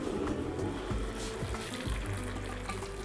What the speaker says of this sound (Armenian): ավելացնում ենք եռացրած ջուր